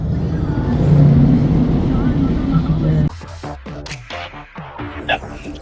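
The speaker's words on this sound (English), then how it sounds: "Here comes the big bucket off one of those big trucks" A big coal mine haul truck in the Upper Hunter rumbles past loudly with a heavy low engine drone that cuts off abruptly, followed by quieter clanking and scattered clatter.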